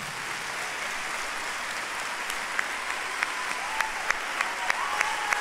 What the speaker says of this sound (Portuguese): Aplauda Jesus pela vida dele.